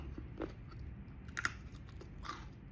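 Someone eats crunchy Thai niang beans (luk niang nok): a few quiet, close crisp bites and soft chewing crunches, spaced irregularly against a low, hushed background.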